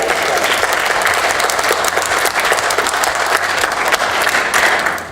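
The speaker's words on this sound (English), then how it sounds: "Give yourselves a massive round of applause." Sustained, loud audience applause fills a conference event hall in Zagreb, dense and steady from start to finish with no speech over it.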